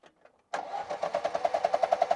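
A car engine cranks and catches after a brief quiet moment, settling into a steady rhythmic idle with regular pulsing beats, loud and close.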